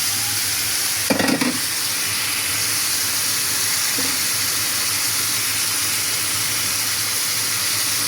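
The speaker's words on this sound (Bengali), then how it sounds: "কচুরলতি দিয়ে দিলাম।" Taro stolons (kochur loti) fried in a pan, giving a steady soft sizzle and hiss, with a brief stirring scrape near the start and another faint one a few seconds later.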